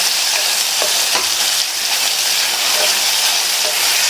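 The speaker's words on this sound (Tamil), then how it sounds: "நல்லா மறுபடியும் ஒன்று போல் பரட்டி விட்டுட்டு" Brinjal (eggplant) stir-frying in a pan for kathirikkai varuval, a loud, dense continuous sizzle with faint scrape and stir sounds, close up and without talk.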